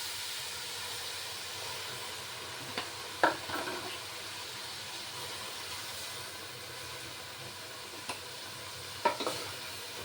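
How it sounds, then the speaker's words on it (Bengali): Water is poured into semolina roasting in a pan for suji halwa, raising a steady hiss and sizzle with a few sharp clinks of stirring scattered through it. "এবার আমি জলটা ঢেলে দেবো"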